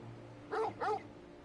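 A dog companion in the video game Final Fantasy 16 gives two short, clear barks in quick succession, moderately loud over a low, steady game ambience.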